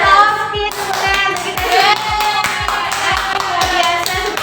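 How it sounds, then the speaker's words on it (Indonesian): Group of children clapping hands in a steady rhythmic beat, close and loud, with a lively adult voice and music-like tones over the claps. "tepuk tangan."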